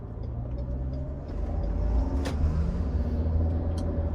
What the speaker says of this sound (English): we're going to test out the economy mode, how well it accelerates in the economy mode